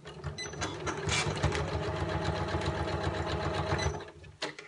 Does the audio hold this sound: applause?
no